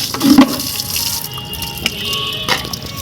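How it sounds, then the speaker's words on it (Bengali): A bucket is washed with tap water, giving loud, close splashing and running water with a few sharper knocks and sloshes across the short stretch. "বালতিটা ধুয়েই একেবারে নিয়ে যাই ছাদের দিয়ে"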